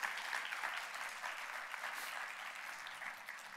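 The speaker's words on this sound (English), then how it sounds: "So we're going to start with a round of applause for you guys." Conference audience giving a round of applause to a patient and advocate panel, steady crowded clapping that fades slightly toward the end, fairly quiet in level.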